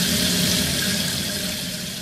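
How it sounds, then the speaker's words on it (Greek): An opened faucet gushes water steadily into a sink, a loud continuous rush that holds for the whole moment without a break. "κι άνοιγε να πιει νερό στη βρύση"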